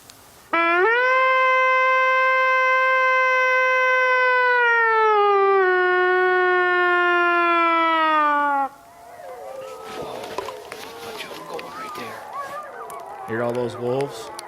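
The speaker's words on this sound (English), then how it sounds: "I'm going to stop here and let out a holler on my wolf howler and see what kind of action I get." A handheld wolf howler call device sounds one long, loud, steady harmonic howl lasting about eight seconds, falling slightly in pitch partway, then cutting off into a faint mix of distant wildlife and rustling.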